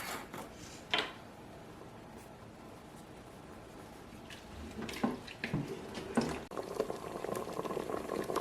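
Chicken blanquette with pepper and salt bubbles inside the pot of a Cookeo pressure cooker, a soft, steady boil that grows busier and more gurgling toward the end, with a few faint knocks.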